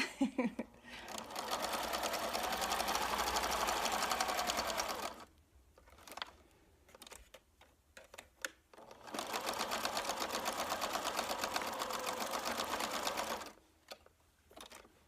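A sewing machine stitches a seam on a homemade heating pad in two long steady runs, close and loud, with a quieter pause of handling noises between them.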